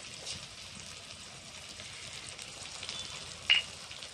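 Chopped tomato and cumin paste fry in a pan for a village-style Bengali vegetarian banana-flower dish, giving a steady soft sizzle throughout with a brief louder crackle near the end; no one speaks.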